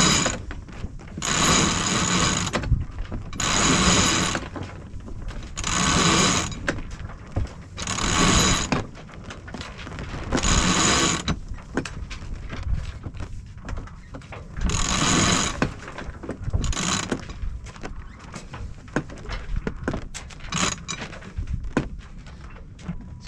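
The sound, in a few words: winch pulling in a sailboat sheet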